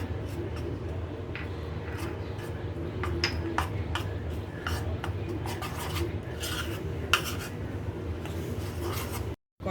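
A spoon scrapes and stirs a thick batter of water and flour around a bowl for a bread snack, with steady close rasping strokes and occasional clinks.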